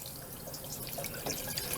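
Water pours into a water ice machine for rocket pop water ice, a close, steady splashing trickle with drips that grows slightly fuller toward the end.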